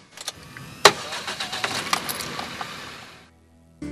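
A car engine starting at a home early in the morning before a work commute, with a few sharp mechanical clicks and a cranking burst followed by a steady running rumble, close and fairly loud, then cutting to near silence.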